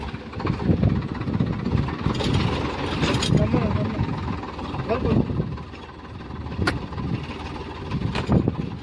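A farm tractor engine runs steadily at close range with a low, rumbling drone throughout, while people talk over it and a few brief knocks cut through.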